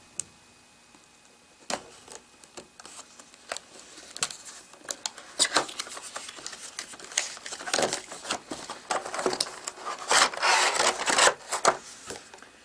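Cardboard packaging of a Cideko Air Keyboard being cut open, heard as a run of close, irregular ticks, scrapes and tearing rubs that grow busier and louder toward the end, with no talking.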